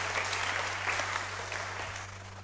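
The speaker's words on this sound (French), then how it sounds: "On peut applaudir la parole du Seigneur." A church congregation applauds, steady continuous clapping from many hands that holds at moderate loudness and eases off slightly near the end, over a low electrical hum.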